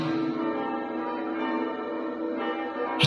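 A church bell rings on and on, its dense metallic overtones sustained and fairly close, with a fresh strike swelling near the end; no voices.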